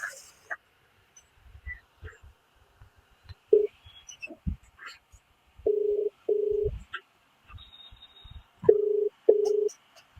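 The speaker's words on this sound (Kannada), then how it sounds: "ಟಾಂಗಾಗ್ ಫೋನ್ ಹಚ್ಚುಂ ಬರ್ರಿ ಗೈಸ್." Telephone keypad tones and ringback beeps from a phone call, short steady tones repeating in pairs near the end, with faint clicks and scattered soft noises between them.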